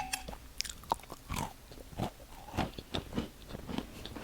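Close-up crisp crunches as someone bites into and chews a crunchy matcha chocolate chip scone, with irregular bursts of crackling and munching.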